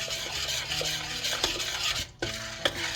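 Chocolate icing ingredients melt in a pan on the stovetop as a spoon scrapes continuously around it in close, rhythmic rasping strokes, with a brief pause and a few knocks against the pan.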